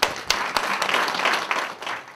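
Audience at a political speech in a hall breaks into brisk applause, a dense wash of clapping with a few sharper individual claps, continuous for a couple of seconds.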